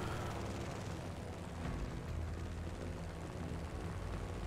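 An aircraft in Just Cause 3 comes in to land with a loud, continuous engine roar and rumble that holds steady throughout.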